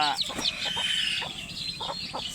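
Native chicks cheep with rapid high-pitched peeps, repeated in quick bursts close by, with faint low rustling underneath and no talking.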